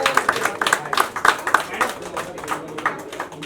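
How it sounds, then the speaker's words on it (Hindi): Audience applause at an awards show for Corona warriors, with clapping in bursts that rises and fades as a voice speaks over it. "एक बार जोरदार ताली।"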